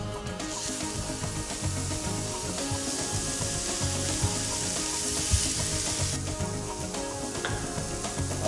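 Food sizzles on a commercial grill in a steady, even hiss. Close and continuous, with faint scraping and clattering mixed in and no voices.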